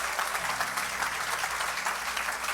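A church congregation applauds loudly and steadily, a dense wash of many hands clapping together throughout.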